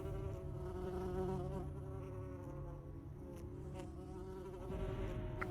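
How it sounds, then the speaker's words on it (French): Steady insect buzzing from a bee in the online role-playing game Secret World Legends, a continuous droning hum with layered harmonics, even and close throughout and unbroken by speech. "Une abeille incroyable."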